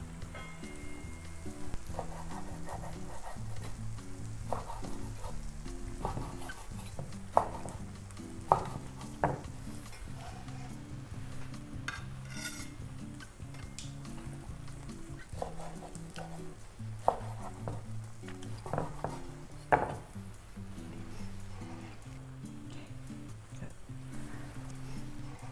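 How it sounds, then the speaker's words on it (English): Grilled pork belly sizzles steadily in a pan beside kimchi while it is cut, with repeated light knife or scissor chops and clicks against the pan over a continuous frying hiss. "Let's cut the meat."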